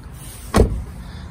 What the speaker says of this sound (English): You've also got your power controls for the locks as well as the windows.